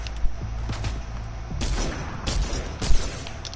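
Bursts of video game gunfire crack out in quick clusters, several sharp loud shots with short gaps between volleys over a low rumbling background.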